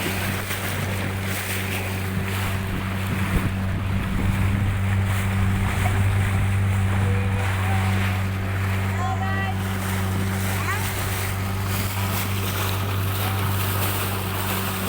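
A speedboat crosses open sea between islands off Sabang, Aceh, its engine a steady low drone with wind buffeting the microphone and water rushing past throughout.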